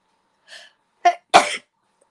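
A single close, loud sneeze, preceded by a short sharp intake and a brief catch of breath, with silence around it.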